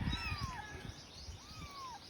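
Several kittens found wrapped in a plastic sack give thin, drawn-out meows, faint and close, over a low rustling background.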